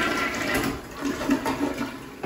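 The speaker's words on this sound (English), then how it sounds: "But it has that water-saving flush." A water-saving toilet in a hotel bathroom flushes with a close, steady rush of water that swirls and gurgles, slightly easing toward the end, with no talk.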